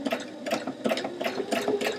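Sewing machine running a zigzag stitch along chiffon skirt edges, a close, steady whirring hum broken into regular rhythmic bursts about four times a second, with no talking.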